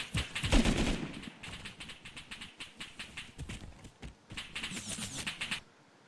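An automated turret machine gun in the survival game Rust fires rapid bursts of gunfire, short rattling volleys separated by brief pauses, fairly close and loud.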